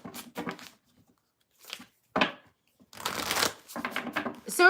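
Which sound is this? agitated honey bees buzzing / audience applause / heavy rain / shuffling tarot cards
shuffling tarot cards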